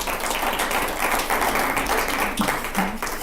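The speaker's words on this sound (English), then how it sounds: "Gosh, I appreciate the applause." Audience applause after a poetry reading fills the room, dense and continuous clapping at close range with no voices over it.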